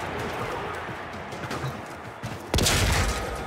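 Gunfire from the Warframe video game bursts in abruptly near the end, a loud dense volley of shots over a busy game background.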